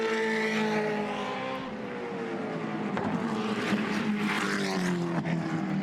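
Gen3 Supercars race cars at Bathurst, several loud engines howling and droning at high revs as they pass, with pitch sliding down and overlapping roars from cars nearby and farther off, no talk.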